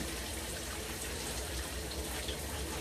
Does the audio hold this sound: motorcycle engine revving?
no